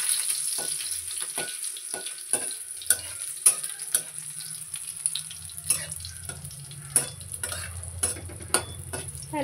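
Panch phoron and green chilies fry in hot oil with a steady, close sizzle, broken by sharp spatter pops and utensil clicks through the whole stretch.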